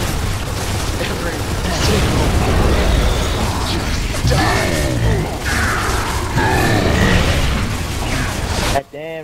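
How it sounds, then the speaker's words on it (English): Gunfire and explosions from the Gears of War 3 video game pound continuously in loud bursts and booms, with brief chattering mechanical noise and a sudden cut near the end. "there's so much fucking gunfire"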